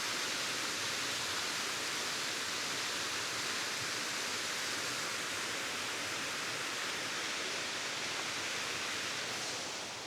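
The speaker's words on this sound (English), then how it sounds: "Oh, look at the waterfall." A waterfall in a wooded glen at Fairlie, Scotland, in winter, rendered as a constant, even rushing roar of falling water, steady and broadband with no voices over it.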